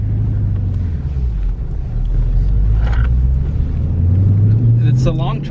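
Jeep Trackhawk engine working hard under acceleration, a deep, loud, steady rumble with a rising tone near the end, heard from inside the vehicle.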